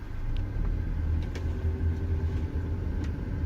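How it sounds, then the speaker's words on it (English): A car driving around an empty parking lot at CenturyLink Field, a low, steady engine and road rumble heard from inside the cabin, fairly quiet and continuous. "let's try driving around"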